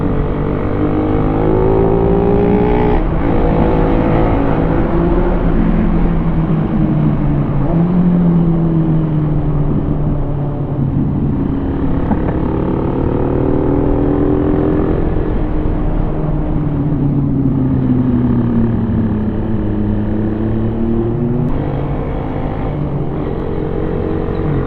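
Steady, loud engine drone of a Kawasaki Ninja 1000cc sport motorcycle cruising on a road toward a beach, with rising and falling pitch as it shifts and changes speed, plus wind rush, continuous throughout.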